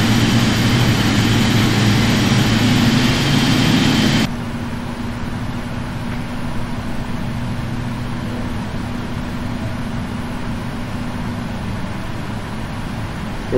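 Airliner engines run in the P3Dv4.5 flight simulator at London Heathrow, a loud broad roar that cuts abruptly to a quieter steady jet hum with a low drone.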